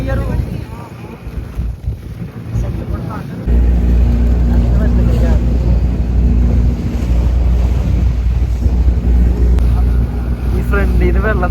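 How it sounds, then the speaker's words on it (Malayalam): Cold wind buffets the microphone during a boat ride on Pykara Lake in Ooty, a loud continuous roar mixed with water rush from the boat, with voices heard beneath it. "നല്ല തണുത്ത കാറ്റ് അല്ലേ?"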